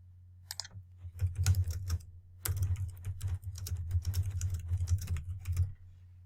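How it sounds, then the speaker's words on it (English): Search words are typed on a computer keyboard in two quick bursts of close, rapid key clicks separated by a short pause, over a low steady hum. "I would type in as many words as possible into the search bar"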